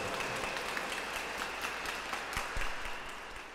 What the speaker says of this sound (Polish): Gorące oklaski!